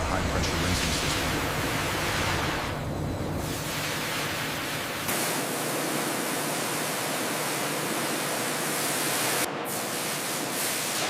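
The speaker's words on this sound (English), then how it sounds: "The journey continues as pure white coconut meat enters a high-pressure rinsing system." A high-pressure water rinsing system washing pure white coconut meat in a coconut milk factory, a loud, steady, broadband rushing spray with slight surges, constant throughout.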